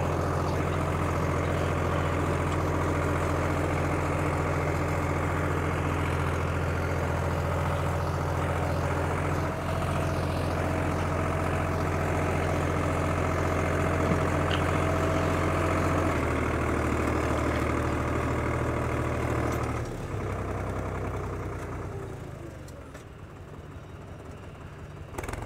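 An IHC 633 tractor engine idles steadily close by during ploughing, a low continuous diesel rumble with strong low harmonics that shifts pitch slightly around the sixteen-second mark and eases off near the end.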